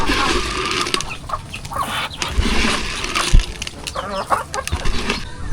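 Chickens, including gamecocks, cluck and squawk close by in a backyard coop, with irregular bursts and a few crowing-like calls over a busy outdoor background.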